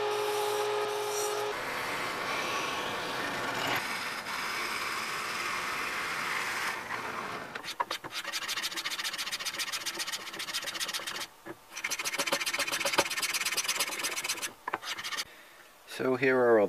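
Steady rasping and rubbing of a saw cutting through wood scraps in a home workshop, with continuous strokes, brief pauses near the end and a final change in tone.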